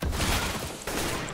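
Rapid gunshots from a CS:GO competitive match, a dense, loud volley filling the whole short moment with a brief dip near the end, no voices.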